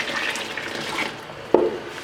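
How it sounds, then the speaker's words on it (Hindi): A jug of water poured into simmering kadhi in a home kitchen, a soft liquid rush followed by a sharper splash, fairly close and alone. "1 जग पानी और ऐड कर दूँगी।"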